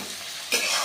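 Chopped onions frying in a pan for a doi katla fish curry, with a steady sizzle that jumps louder and brighter about halfway through as they are stirred, close and alone without talk.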